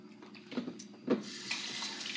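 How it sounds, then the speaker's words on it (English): Hands being washed under a running kitchen tap while cooking, a close, continuous hiss of flowing water with a couple of brief splashes and clatters as the hands move beneath it. "Wash my hands up because they're red and so much you will stain your skin."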